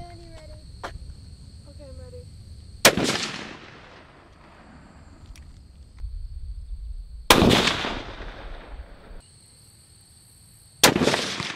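Loud rifle shots during a Wisconsin youth deer hunt in autumn woods, three sharp cracks spaced a few seconds apart, each trailing off in a long echoing rumble, with faint outdoor background and quiet voices between.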